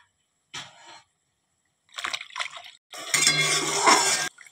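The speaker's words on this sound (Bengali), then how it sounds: "এবার সয়াবিনগুলো জল দিয়ে ভালো করে ধুয়ে নিব।" Soya chunks washed in water, with short bursts of splashing and swishing separated by silent gaps, ending in a longer, louder stretch of sloshing and trickling water.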